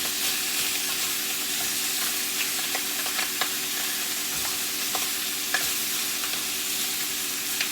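Cut-up rabbit pieces caramelizing in a hot pan for Italian-style rabbit give off a steady, dense sizzle with small scattered pops. It is close and even throughout, with no talking.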